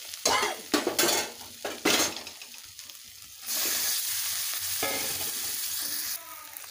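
Eggs dropped into sizzling, oil-separated spice masala for a spicy Bengali egg curry, then stirred: a few sharp utensil clatters, then a steady, loud, close frying hiss with no voices.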